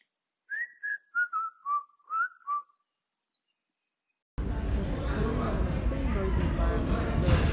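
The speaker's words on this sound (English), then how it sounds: "And now here's that whistle." A person whistles a short run of six quick descending notes, clear and alone against silence, picked up through an AirPods Pro microphone; a burst of noisy talk follows.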